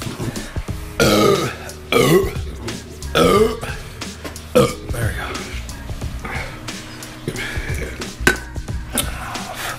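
Repeated loud belches from a drinking-game player during a rapid beer-drinking challenge, several deep burps spaced through the stretch with other people's voices and party noise mixed in between them.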